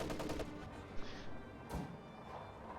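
Field gun firing in the Company of Heroes video game, a quick burst of sharp reports at the start followed by a couple of thuds, faint and distant in the mix with no talk.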